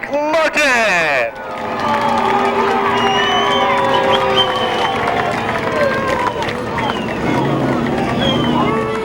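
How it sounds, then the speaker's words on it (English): A speedway crowd at Seekonk Speedway in Massachusetts cheers and applauds a Pro Stock feature winner, a steady roar of voices and clapping that starts abruptly after a brief burst of announcer-like sound and holds loud throughout. "a big round of applause for Radical Rick Martin."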